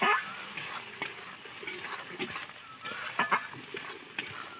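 A spoon stirs a silver carp fish curry paste of ground white mustard and seeds as it fries in a pan. A steady sizzle runs under repeated scraping strokes, fairly close and continuous.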